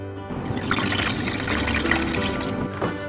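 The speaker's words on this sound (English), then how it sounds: "4 liters of water to fill up the tank" Water pours steadily into the tank of a small hydroponic system, a close, continuous splashing trickle of moderate volume with no talking.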